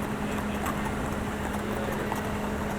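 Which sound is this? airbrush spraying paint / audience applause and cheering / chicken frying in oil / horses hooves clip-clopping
horses hooves clip-clopping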